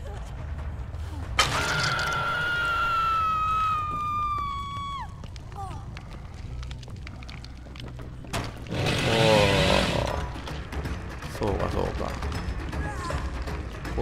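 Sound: Hillbilly's chainsaw in the video game Dead by Daylight

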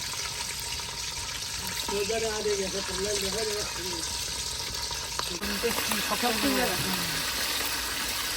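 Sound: chicken being fried after boiling

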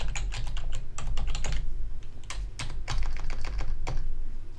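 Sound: typing a password on a computer keyboard

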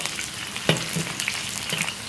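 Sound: stir-frying scallion, ginger, dried chili, Sichuan pepper, star anise in oil

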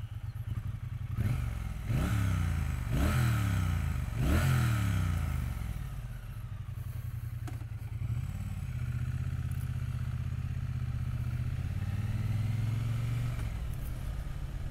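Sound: Triumph T100 Bonneville motorcycle, 270 degree parallel twin engine

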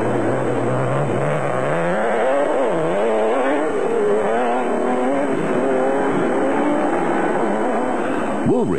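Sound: Nissan Hardbody off-road race truck driving

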